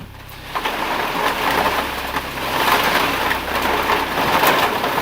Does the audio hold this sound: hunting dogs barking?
no